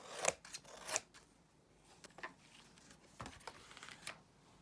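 Scissors cut paper for a handmade no-sew scrapbook book. A few close, crisp snips and rustles are spaced irregularly and sound quiet and intimate, with no talking.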